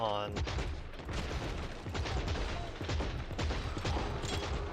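Heavy gunfire in the video game Killing Floor 3, with a double barrel shotgun going off amid a chaotic, loud mix of repeated blasts and mechanical clatter that runs almost continuously.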